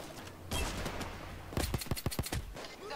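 Crosskill pistol shots fired in Payday 2, a quick burst of several sharp gunshots in close succession, preceded by a brief louder thump, all fairly faint with no talking.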